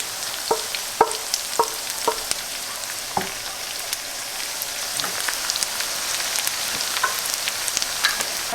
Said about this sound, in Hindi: ये थोड़े से हल्के से सॉफ्ट हो गए तो मैं इसमें लहसुन भी डाल दूँगी, गार्लिक जो चॉप किया हुआ था।